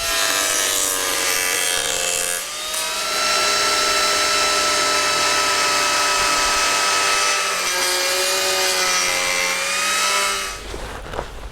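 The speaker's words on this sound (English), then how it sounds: "I'm now going to trim the bottom part here" A loud, high-pitched whirring of an Arbortech Turboplane grinding the bottom of a solid wood tray, running steadily with a brief dip midway and stopping near the end.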